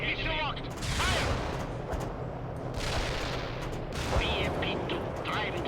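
Battle noise from the World in Conflict: Soviet Assault strategy game, with steady gunfire and booming artillery rolling through the whole stretch, plus a few whistling sweeps over the din; radio-style unit voices speak intermittently underneath.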